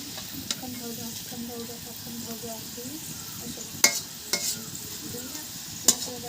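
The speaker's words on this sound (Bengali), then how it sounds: "তো এটা ভেজে নিচ্ছি। লাল লাল হবে তখন তুলে ফেলবো।" Food sizzles steadily in a pan while frying until reddish, with soft background voices and several sharp clicks and spatula knocks over the constant hiss.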